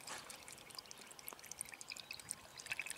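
Fuel system cleaner poured from a bottle through a screw-on spout into a car's fuel tank, a soft faint trickle and gurgle close by with no talking.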